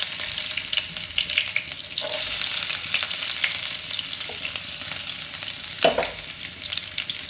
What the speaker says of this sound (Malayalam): ഞാൻ അതിനകത്തോട്ട് കുറച്ച് വെളുത്തുള്ളി ഇട്ട് കൊടുക്കുവാണ്